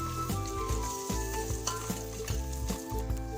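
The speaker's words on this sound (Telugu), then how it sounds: "చూడండి, ఎగ్ అనేది బాగా ఫ్రై అయిపోయింది." An egg frying in oil in a pan for egg biryani, a steady loud sizzle with repeated scraping and stirring knocks of a utensil against the pan.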